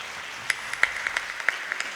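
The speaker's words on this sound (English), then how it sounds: "I would like to request you all to have a round of applause for all three dancers of today." Sparse, distinct claps from an audience at a Bharatanatyam arangetram recital honour three dancers, a thin, fairly quiet scattering of hand claps echoing in a hall.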